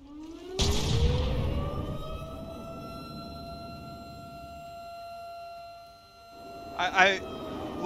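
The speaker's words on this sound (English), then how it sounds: "I love the air raid siren before the missile strike" An air raid siren wails before a missile strike in the naval combat game From The Depths, rising in pitch after a loud blast and holding a long steady tone, with a burst of further impacts near the end.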